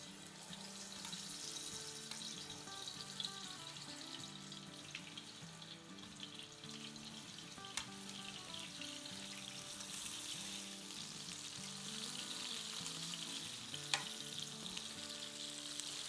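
Fish pieces for biryani fry in a hot pan, a steady, lively sizzle and crackle running throughout, with occasional sharp pops and clinks of utensils, no talking over it.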